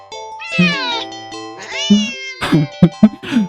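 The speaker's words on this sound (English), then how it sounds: "the cat meows sharply at you and dashes off around the corner and into the hall" A cat in the video game Please, Do Not Take This Cat Home meows repeatedly and close by, with two drawn-out cries followed by several short, sharp meows in quick succession.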